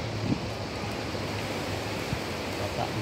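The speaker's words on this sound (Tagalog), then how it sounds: "kita nyo lagaslasan. Pababa ang tubig sa pababa." Mountain water streams downward in an even, hissing rush, steady and fairly close, with faint low rumbles of wind at the microphone and no voices.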